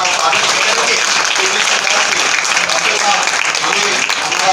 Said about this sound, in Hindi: आज हम सब एक बार जोरदार तालियों से डॉक्टर साहब का स्वागत करेंगे।